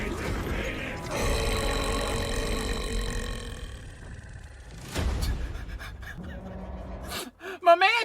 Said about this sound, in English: He burps.